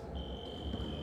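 A basketball shot clock buzzer sounds at a rookie combine scrimmage as a shot beats the clock, one sustained steady electronic tone heard over the low roar of a gym crowd.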